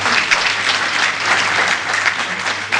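An audience at the 2018 Iqbal Day poetry program of Majlis e Iqbal in Chashma breaks into loud, dense applause. Many hands clap steadily and close for the whole stretch, with no voices over it.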